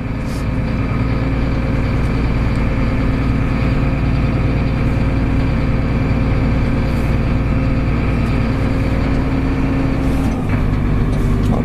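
Loud, steady engine rumble of a Massey Ferguson 8730S tractor reversing, running continuously throughout, with a heavy low drone and no voices.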